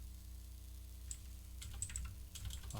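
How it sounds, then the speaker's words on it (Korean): Someone types on a computer keyboard, with irregular clicks that grow busier in the second half and sit over a steady low electrical hum. "제가 자세를 이상하게 잡고 지금 타이핑을 하니까"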